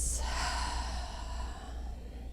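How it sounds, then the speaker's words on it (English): An exhale during pranayama breathwork, a long soft breath released steadily over about two seconds, close and fairly quiet with a breathy hiss that fades slightly toward the end. "And exhale, release."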